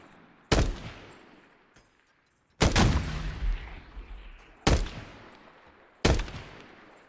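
Gunfire at a firing range in the video game ARMA: four loud, widely spaced single shots, each a sharp crack followed by a long echoing decay, with near silence between them.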